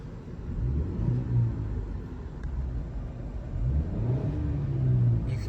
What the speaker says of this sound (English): If you rev it from the inside, if you put it into Sport Plus,